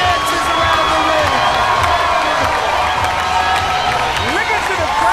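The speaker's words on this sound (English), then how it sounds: "Look at the crowd. They're giving it to him." A large arena crowd at an MMA fight cheers and roars for the winning fighter, a loud, sustained wash of shouts and whoops with scattered applause and a commentator's voice on top.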